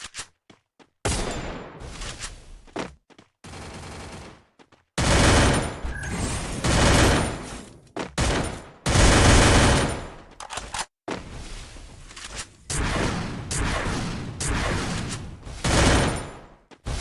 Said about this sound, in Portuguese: Tá lá, trocando tiro.